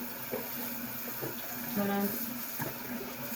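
Water runs from a tap to rinse a popcorn bowl, a quiet steady gush with a low hum and faint clinks and splashes against the bowl.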